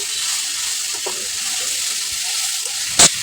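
Washed jute leaves go into a pan of frying onion and garlic, giving a steady close hiss of sizzling oil with a sharp metallic clink near the end and no voices.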